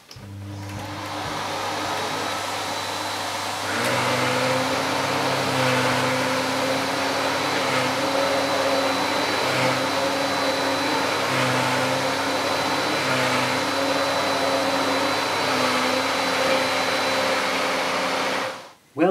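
Miele S5 Revolution 5000 cylinder vacuum cleaner running while cleaning stairs: a steady, loud motor drone held for nearly twenty seconds, with slight changes in tone as the nozzle moves, then cutting off abruptly at the end.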